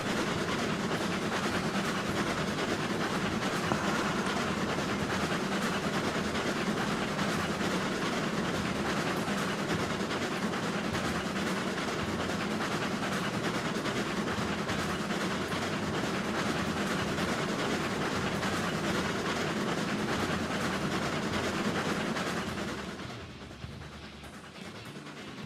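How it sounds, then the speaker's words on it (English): Train video game locomotive running steadily, a continuous rumbling engine and rail noise with rhythmic clatter, loud and unbroken for most of the stretch before easing near the end. "these are literally new locomotive sounds"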